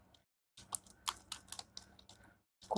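Rapid clicking keystrokes on a computer keyboard while code is entered for a React JS fetch API tutorial, close and crisp in an irregular burst with short pauses and no talk.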